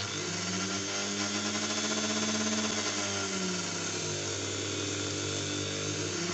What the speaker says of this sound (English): just grind off